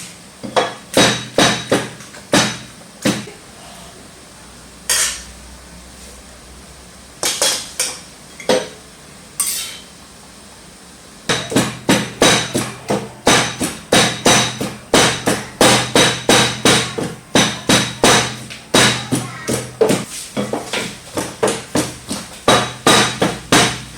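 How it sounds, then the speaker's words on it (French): Okra and other ingredients pounded together in a mortar while making fouti fognai with fonio: steady, close, repeated thuds in bursts, a few seconds of quiet partway through, then a long run of rapid rhythmic pounding. "nous allons venir piler tout ceci ensemble"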